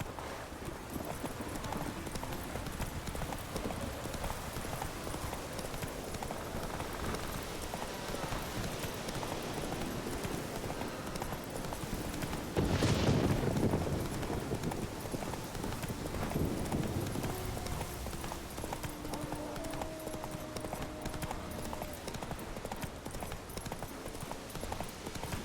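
Roach, the horse in The Witcher 3, gallops with continuous hoofbeats under a dense game soundscape, fairly loud and steady, with a brief louder burst midway.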